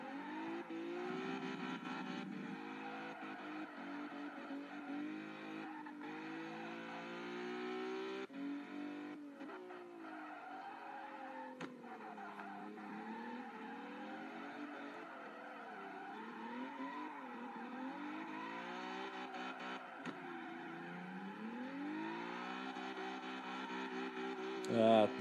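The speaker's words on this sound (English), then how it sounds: "A little too much wheel spin there." A racing video game car revs hard with its wheels spinning, the engine note rising and falling almost continuously while brief tire squeals break through, loud and close throughout.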